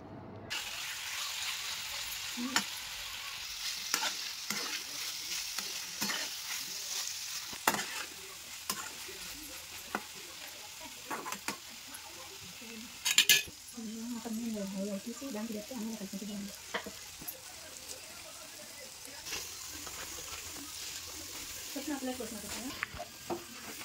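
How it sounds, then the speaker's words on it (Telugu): Bitter gourd pieces frying in a pan with ground onion chili paste, a steady sizzle broken by repeated scraping stir strokes and clinks, close up, with a voice speaking over parts of it. "ఇప్పుడు మనం నూరి పెట్టుకున్న ఉల్లిపాయ కారాన్ని వేసుకొని ఉడికించుకోవాలి"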